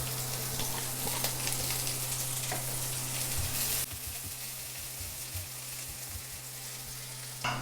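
Chopped onion and green chili fry in mustard oil with a dense, bright sizzle that drops abruptly halfway to a quieter, softer hiss, plus a low steady hum underneath.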